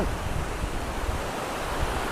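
Steady, broadband rushing of falling water, a continuous roar with no pauses and no voices.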